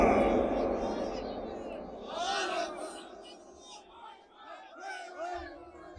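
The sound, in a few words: crowd shouting slogans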